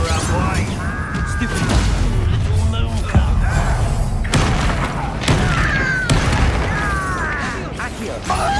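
Spell effects in Hogwarts Legacy, with fire, summoning and disarming casts, burst out as repeated booms and pops in a busy, continuous battle mix under shouted speech.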